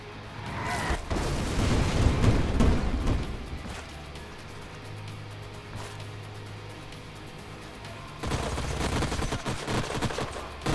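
Shredder bomb attack in Age of Wonders: Planetfall, a loud rattling barrage of rapid explosive bursts that swells, fades to a low rumble, then returns in a second burst near the end.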